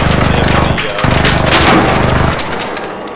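Gunfire in the video game Arc Raiders, loud rapid bursts of shots in two sustained volleys with a brief pause between, fading into a rumbling tail.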